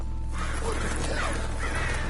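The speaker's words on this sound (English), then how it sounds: "Just some damn birds." Crows cawing in the Red Dead Redemption video game, a few harsh calls repeating over a steady low ambient hum at moderate distance, with no talk over them.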